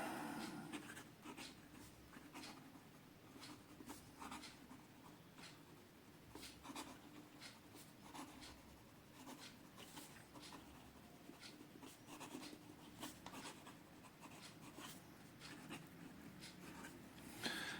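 A Jinhao 82 fountain pen writing fast on paper gives a soft, close scratching of quick nib strokes in a steady rhythm, faint and continuous, with no talk.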